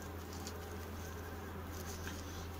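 Honeybees feeding on sugar syrup during a dry spell, a dense steady buzzing hum from many bees, close and continuous, with no talking.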